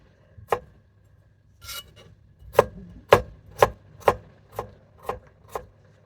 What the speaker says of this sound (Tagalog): after slicing the ingredients